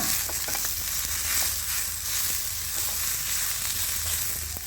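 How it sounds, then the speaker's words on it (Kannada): Mint leaves sizzle and fry in hot oil for chicken biryani, a steady close crackling hiss without a break and no voices. "ಪುದೀನ ಸೊಪ್ಪು, ಇದು ಸ್ವಲ್ಪ ಲಾಸ್ಟಿಗೆ ಹಾಕಿ ಸ್ವಲ್ಪ ಫ್ರೈ ಮಾಡಿದ್ರೆ ಸಾಕು"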